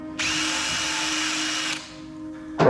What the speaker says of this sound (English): you don't know how deep you need to drill